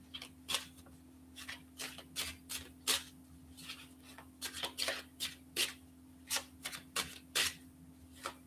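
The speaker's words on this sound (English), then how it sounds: "when I'm shuffling, right, sometimes the cards don't want to shuffle" A deck of tarot cards being shuffled by hand close up, in quick irregular bursts of riffling and flicking separated by short pauses, with no talking.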